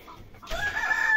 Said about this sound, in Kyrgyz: Жерси тоок.